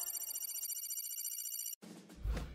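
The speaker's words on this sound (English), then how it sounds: "Detective Brightbrain was sitting in his office when his phone rang." An office telephone rings steadily for nearly two seconds, loud and close with a bright repeating electronic trill, then cuts off abruptly into a brief low rumble.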